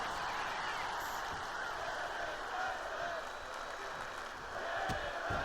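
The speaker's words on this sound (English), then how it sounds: "you can hear this crowd chanting" A large arena crowd at a professional wrestling event roars and chants "This is combat" steadily throughout, a dense wall of many voices with occasional louder swells.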